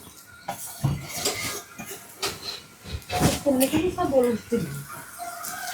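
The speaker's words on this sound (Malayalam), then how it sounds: "അപ്പോൾ നമുക്ക് ഇതിലേക്ക് പോർക്കിലേക്കുള്ളത് വറുത്തെടുക്കാം" Coconut fries in a pan, sizzling and scraping with clinking utensils, a steady hiss underneath, while people talk over it.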